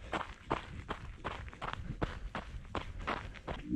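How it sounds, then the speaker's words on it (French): Wet running footsteps splash through puddles on a flooded trail, a rapid steady rhythm of soggy slaps with each stride, close and fairly loud over rustling background noise. "Ce doux bruit de floc-floc à chaque foulée."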